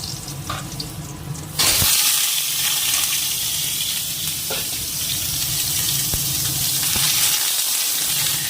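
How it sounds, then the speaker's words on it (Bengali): Potato pieces go into hot oil with a sudden steady hiss and sizzle at about 1.6 seconds, then frying runs on at an even level with small kitchen clatter. "তেলটা গরম হয়ে গেছে এবার এই যে আলুটা ভাজতে দিয়ে দিই"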